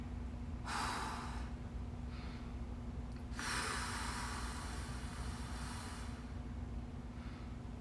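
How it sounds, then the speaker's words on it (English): Breathing during a stick mobility workout class: two or three long, airy exhales or inhales over a steady background hum, moderately close and unaccompanied by talk. "Make sure you breathe."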